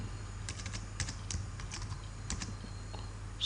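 Keys clacking on a computer keyboard in irregular bursts of slow typing, close and fairly quiet over a steady low electrical hum, with no talking.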